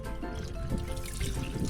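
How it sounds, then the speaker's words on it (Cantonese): Seawater trickles and splashes over a freshly gutted, split mackerel on a small rocking fishing boat at sea, a steady close wash of running water with a faint tonal hum underneath. "然後用海水洗乾淨，"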